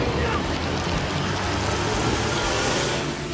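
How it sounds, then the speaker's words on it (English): Rain spell cast in the fantasy role-playing game Divinity: Original Sin during a boss battle, a dense steady hiss of falling rain that fills the whole stretch at constant loudness. "Let's use rain again."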